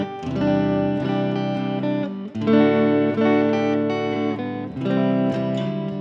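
Clean electric guitar through a Telecaster-style neck pickup into a Fender Princeton Reverb '65 blackface reissue amp, strummed chords ringing with a warm, chimey tone in three sustained phrases with short breaks, close and full, no voices.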